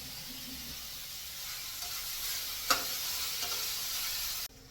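Tomato pieces with salt and turmeric cooking in a pan, a soft continuous sizzle with faint stirring and one brief clink, steady and close before stopping abruptly.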